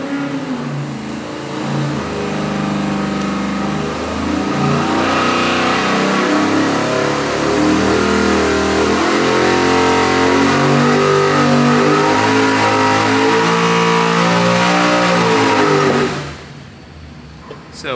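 A 441 cubic inch LS3 V8 with 12.0:1 compression, running VR1 20W50 oil, revs up loudly through a long dyno pull, its pitch climbing steadily for about sixteen seconds before abruptly dropping off as the throttle closes.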